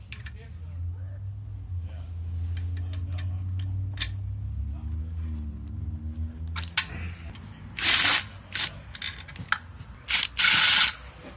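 A ratchet works loose 8mm Allen bolts on a VW Passat engine bracket, quick clicking bursts with scattered metallic ticks and clanks in a quiet workshop, ending in a few sharp loud rattles.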